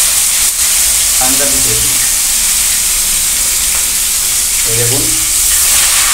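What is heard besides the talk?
frying fresh rohu fish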